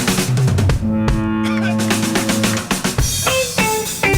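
A rough, somewhat muddy recording of a rock band playing together, with sustained guitar chords and steady drum hits at a loud, even level.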